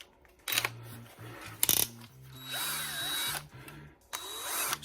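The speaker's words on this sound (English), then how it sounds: "Now I'm going to try it in a drill. Hopefully it'll work in the drill." A power drill whirs in two spinning bursts, separated by clicks and handling noise, during parts installation on a 1969 Charger; close and fairly loud, with no talking.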